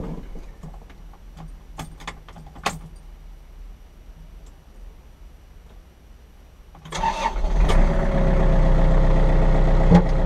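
A Kubota tractor engine starts up. Faint clicks and rattles come first; after about seven seconds the engine fires and settles into a loud, steady idle that holds to the end.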